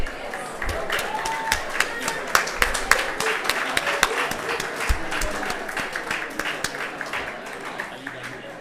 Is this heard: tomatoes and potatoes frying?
no